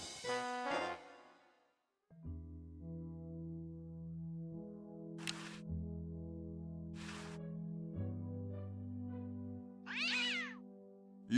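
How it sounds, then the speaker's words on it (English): A cartoon cat yowls in the video game Day of the Tentacle Remastered, several stretched meowing cries heard over a sustained low musical drone, with short noisy bursts between them and no speech. "Sounds like the cat's caught a moose up there."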